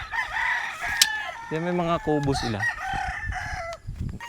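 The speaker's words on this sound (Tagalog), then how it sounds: "So ito yung gumising sa akin eh. Yung mga manok na yan, oh. Ang daming manok." Roosters crow in a drawn-out harmonic call near the middle of the clip, with other fowl clucking around a rural cottage rental at a motocamping stop; someone speaks over much of it.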